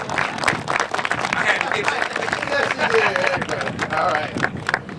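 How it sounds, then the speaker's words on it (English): An audience at a groundbreaking ceremony claps in a dense, steady patter of applause, with a voice speaking over it. "So while you're clapping"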